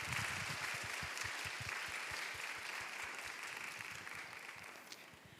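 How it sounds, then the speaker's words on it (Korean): A church youth-service congregation claps for the drama team, steady dense applause filling the room for several seconds and tapering slightly toward the end, with no talk over it. "우리 스키 드라마 팀에게 다시 한번 큰 박수 부탁드립니다."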